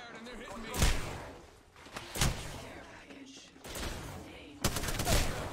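Gunfire in the video game Apex Legends: three loud, sharp bursts of shots about a second and a half apart, the last a rapid cluster, over a busy in-game background with a voice talking.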